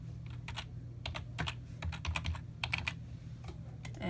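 Fingers type on a computer keyboard in quick, uneven bursts of light clicking keystrokes with brief pauses between runs, all close up over a faint steady background hum.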